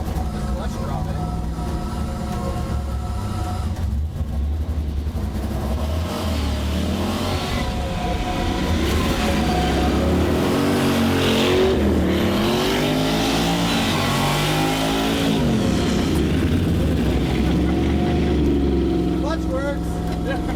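An Audi Quattro engine revs hard and steadily, rising and falling in pitch before a clutch-drop launch, with the loud engine filling the whole stretch and voices buried beneath it.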